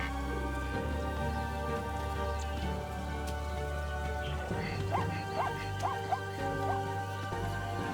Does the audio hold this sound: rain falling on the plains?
yes